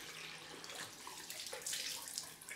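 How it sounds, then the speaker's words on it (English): Cold water runs steadily from a tap for a short stretch, a close, quiet hiss with slight splashing and no talk. "I'm going to do the cold rinse and put the alum on"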